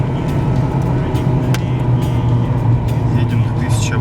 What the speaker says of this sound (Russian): Едем до 1000 оборотов на сброшенном газе.